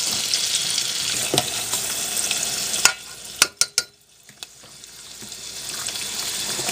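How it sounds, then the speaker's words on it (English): Vegetables sauté in a hot pan with a steady, bright sizzle, broken partway through by a few sharp knocks of a utensil against the pan before the frying hiss builds back up. "I will be sauteing this till it gets a little tender"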